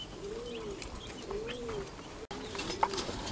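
White Jacobin pigeons coo in repeated soft, rolling calls, close and clear over a low background hum of other birds, with no voices.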